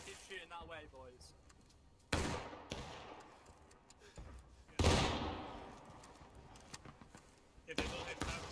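Musket volleys crack out in the Civil War battle game War of Rights, with a few sharp, loud shots spaced several seconds apart over a low background clatter and a voice speaking.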